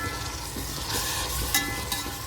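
Tomatoes sizzling in a frying pan while being stirred for chicken biryani, after mint and coriander have wilted; a steady close frying hiss with scraping stir strokes, no talk.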